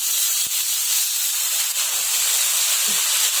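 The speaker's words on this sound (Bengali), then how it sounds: "পেঁয়াজগুলো ভাজা হয়ে গেছে, এখন শাক দিয়ে দিব আমি" Mustard greens hit fried onions in a hot pan and sizzle with a loud, steady hiss, close and continuous, broken only by a couple of faint clicks.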